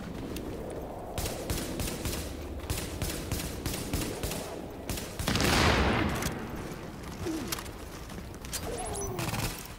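Gunfire from the video game The Division: dense, rapid bursts of shots run through the whole stretch without pause. The firing swells louder in the middle before settling back to a steady stream of shots.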